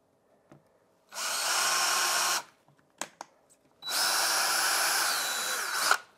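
A power drill cuts through a floor outlet cover in two loud, sustained bursts of whirring, separated by short clicks and a pause.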